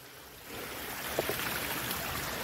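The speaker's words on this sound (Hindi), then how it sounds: "ये देखिए हल्का पुल्का झरना दिख रहा है यहाँ पे और बड़ा झरना उधर पीछे तरफ।" Steady rushing water from a waterfall near Pushkar, Ajmer on a rainy day, a broad continuous roar that swells after the first half second and stays loud and even, with no talking.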